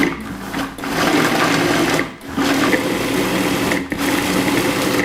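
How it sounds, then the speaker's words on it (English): Food processor pulsing dates and walnuts into a paste for raw vegan brownies, a loud steady whirring motor in three bursts separated by brief pauses. "So you just want to pulse all of those ingredients till everything breaks up."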